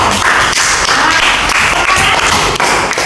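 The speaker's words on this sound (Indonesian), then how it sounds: "tepuk tangannya buat teman kalian" Classmates in a school classroom burst into loud, dense clapping for a fellow student, a steady close-up wash of many hands lasting a few seconds.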